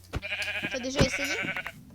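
Sheep bleating in a video game, a few wavering nasal bleats over about two seconds, close and clear amid light clicks, with no voices.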